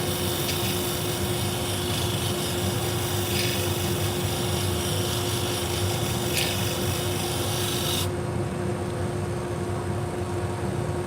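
Salon shears are sharpened to a convex edge, giving a steady, loud abrasive rasping and grinding that runs continuously, with a constant tonal hum underneath, before the high grinding suddenly drops away near the end.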